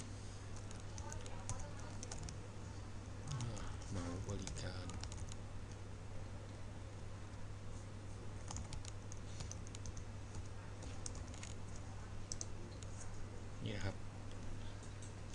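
Faint keys clatter on a computer keyboard in quick irregular bursts while someone talks quietly over a constant low hum.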